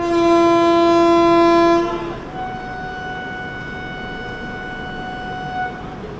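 A Trivandrum–Chennai AC superfast express pulls out of Palakkad station, its loud sustained horn blaring close for about two seconds before the rumble of rolling wagons continues with a fainter, steady tone.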